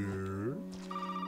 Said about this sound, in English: I'll just answer that phone while I'm here.